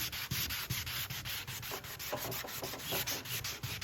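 Rhythmic back-and-forth sanding strokes rasping against the fabric finish of an aircraft wing, close up and steady, about a dozen quick rubs with no talking.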